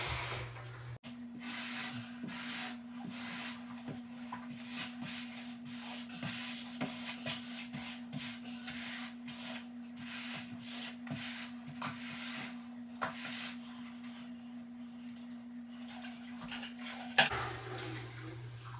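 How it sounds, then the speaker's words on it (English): Grout float or scraper held at a 90-degree angle, dragged across freshly grouted kitchen floor tiles; a steady close rubbing scrape repeats in short strokes for most of the clip over a constant low hum. "you go at a 90-degree angle with the tile, and you just scrape the top of it. And it's going to scrape the majority of this grout off."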